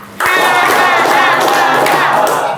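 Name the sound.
class clapping hands five times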